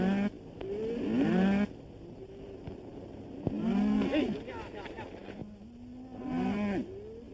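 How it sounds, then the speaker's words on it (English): A herd of cattle lowing on a cattle drive, with repeated drawn-out moos swelling in three loud bursts over a steady outdoor rumble. "Nice bunch of cattle you're sending to market, Mr. Dawson."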